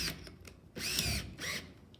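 A power drill bores a plug hole with a 3/8 inch bit, two short whining bursts of about half a second each, close and fairly loud, with lighter motor noise between them.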